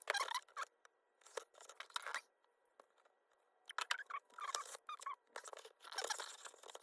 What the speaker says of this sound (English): We're gonna make a cut here and make a cut here.